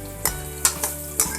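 Round gourd (tinda) sizzles steadily as it fries in a pan, with four sharp scraping clicks of a spoon stirring it at irregular intervals, close and moderately loud, no voices.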